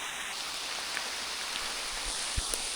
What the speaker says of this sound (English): This wetness, this rain is soaking through everything.